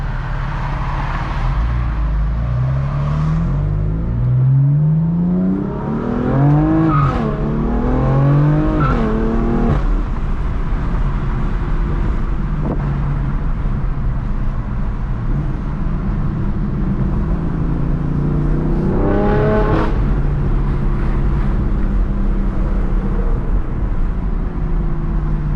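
A 2018 BMW M4 under way, its exhaust loud and close: a steady drone with two sharp revving climbs through the gears, a brief lift, and another rising pull later, with a constant road rumble throughout.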